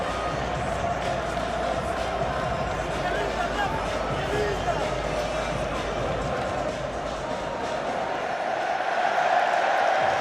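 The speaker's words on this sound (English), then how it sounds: "A great cheer greets the sight of Sir Alex Ferguson on the Wembley screens" A dense Wembley stadium crowd roars and cheers through the FA Cup final between Manchester City and Manchester United, with a continuous loud wash of massed voices and babble.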